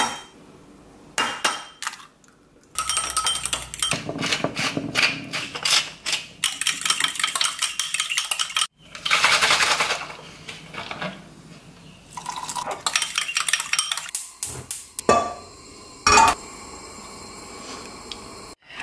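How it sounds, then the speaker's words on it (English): Two eggs are scrambled in a pan, with busy clinking of utensil against pan, scraping and clattering in bursts separated by brief pauses, close up and without talk. "I'm gonna make myself some eggs"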